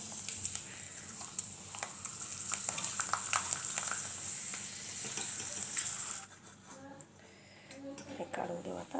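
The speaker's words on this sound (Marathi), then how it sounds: "तुम्हाला तळून दाखवते पापड" Papad frying in hot oil, a dense continuous sizzle with crackling bursts close by, which drops away near the end as quieter clinks follow; a voice talks faintly under the frying.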